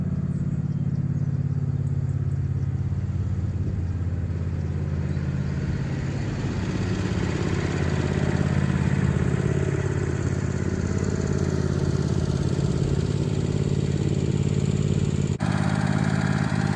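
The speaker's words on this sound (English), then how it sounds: "I just pulled a little red tractor out of the garage. I'll just leave it running for a few minutes, let it get warmed up" A small red tractor engine runs steadily as it warms up just outside a cabin garage, a close, continuous mid-pitched idle with light mechanical clatter and no speech.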